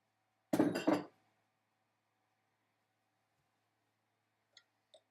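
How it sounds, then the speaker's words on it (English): A spoon stirring a cacao and raspberry gelatin mixture in a bowl, producing a short cluster of bright clinks and scrapes, then near silence broken by two faint ticks at the end. "And then we just keep on stirring it."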